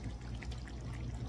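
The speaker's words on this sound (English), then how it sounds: "So I'm add one more cup of water." A cup of water is poured into thick curry goat gravy in a pot, giving a short, soft, continuous splash.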